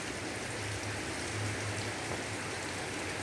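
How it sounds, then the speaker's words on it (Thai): Heavy rain pours down in a dense, unbroken hiss, loud and close, with no voices or other sounds, during days of stormy weather that brought flash flooding. "เหตุการณ์ที่มีฟ้าฝนตกมาหลายวัน"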